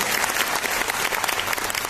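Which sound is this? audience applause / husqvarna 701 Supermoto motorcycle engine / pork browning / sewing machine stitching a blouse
audience applause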